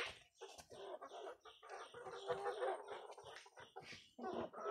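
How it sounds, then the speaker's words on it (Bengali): Clucking from a large Tiger breed rooster of about 7-8 kg on a poultry farm, with repeated close, loud clucks and squawks in irregular bursts throughout, no talk. "দেখছেন আমাদের একটা রাতা কি অবস্থা।"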